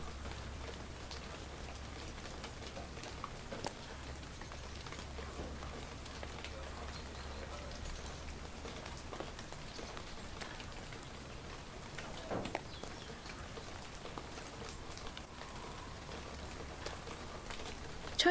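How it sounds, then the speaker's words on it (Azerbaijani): Rain falls steadily in a village in Aghsu, with a faint, even patter and scattered drips over a low background hiss throughout. "Ocağın çıtırtısı yağışın pıçıltısına qarışdı"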